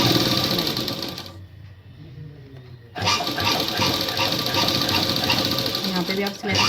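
A sewing machine stitches a hook-and-eye fabric strip, a loud close rattling hum that stops for about a second and a half, then starts again, with someone speaking throughout.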